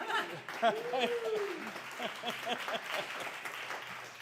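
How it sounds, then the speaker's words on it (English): An audience at a pub politics panel on third parties claps for the panel organizer, a steady patter of moderate applause with some chuckles and voices mixed in. "And let's get a round of applause for Chad."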